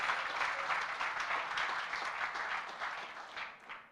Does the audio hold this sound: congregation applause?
yes